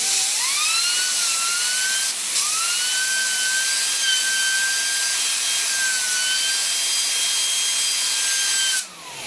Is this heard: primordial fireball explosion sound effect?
no